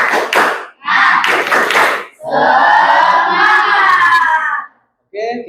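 A classroom of pupils claps the rhythmic 'tepuk semangat' chant: sharp bursts of clapping in a set pattern, then young voices chanting together in unison, a brief pause, and one more short shout.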